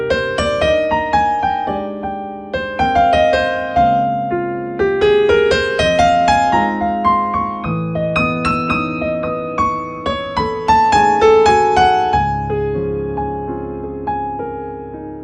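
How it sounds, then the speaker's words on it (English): Impressionistic, lyrical jazz played with a swing feel on what sounds like piano: steady, flowing chords and melody lines with gently lilting phrasing, close and clear, with no talking. "So I do my swing with my sort of impressionistic lyrical jazz that I play"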